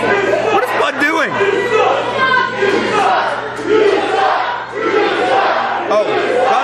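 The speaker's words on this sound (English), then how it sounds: "He's getting the crowd to chant that Bud Cassidy sucks." A pro wrestling crowd chants together in a loud, continuous roar of many voices, steady throughout with no single speaker standing out.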